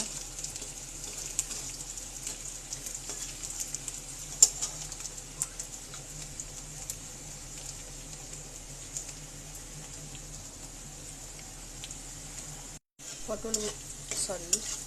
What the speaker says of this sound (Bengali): পনিরগুলো লাল করে ভেজে নিলাম, ভেজে তুলে নেব।